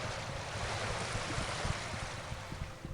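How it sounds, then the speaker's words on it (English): Loud, steady water ambience at the docks in the video game Arcanum: a continuous broadband wash of churning water with low rumbling, unbroken and without speech. "Apparently the water is very loud today."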